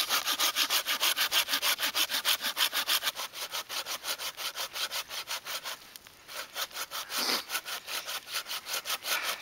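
Hand saw cutting through resinous fatwood outdoors, a fast, steady back-and-forth rasp of close, even strokes that pauses briefly before resuming.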